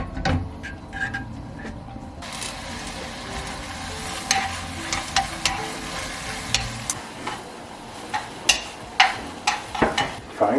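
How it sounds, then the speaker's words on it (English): Spaghetti fries in a pan with a steady sizzle, joined by clicking stirring and scraping that grows busier and louder toward the end, close up with no talking. "Frying spaghetti."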